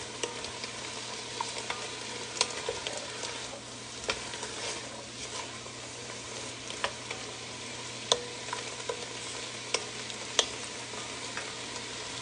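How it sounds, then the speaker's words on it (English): Carrots and celery crackle softly in a pot of pasta and bean soup, a steady low sizzle punctuated by sparse pops and light taps from stirring. "I'm going to go ahead and add my carrots and celery here"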